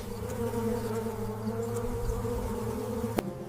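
Wasps or hornets buzz steadily and close by, a continuous droning hum with a brief sharp tick near the end.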